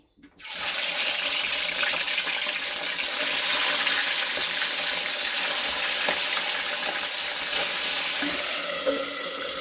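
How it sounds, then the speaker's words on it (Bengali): Fish pieces frying in hot oil in a kadai give a loud, steady, close sizzling hiss that starts abruptly and runs unbroken throughout. "এবার প্রথমে মাছটা ভেজে নেব তেল দিয়ে কড়াই।"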